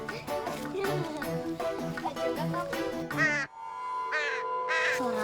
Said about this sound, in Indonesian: Suara apa tuh? Kayaknya suara burung gagak deh.